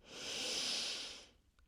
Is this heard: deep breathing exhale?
yes